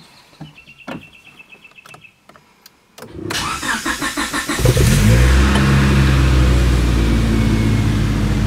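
A Honda Civic engine cranks and catches after a few quiet clicks, then settles into a loud, steady idle that continues close by with no talking.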